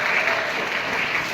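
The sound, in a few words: applause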